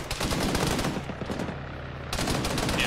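Rapid machine-gun bursts from a BRDM armoured vehicle in a military game, loud and close, pausing briefly in the middle before the fire resumes.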